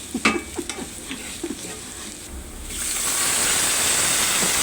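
Aromatics sauté in a pan for chicken liver adobo: a few scattered stirring scrapes and pops at first, then a steady, fairly loud sizzle of hot oil that fills the second half, with no voices.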